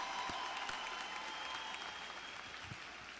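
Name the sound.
audience applause at commencement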